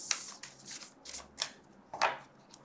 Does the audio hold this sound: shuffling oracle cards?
yes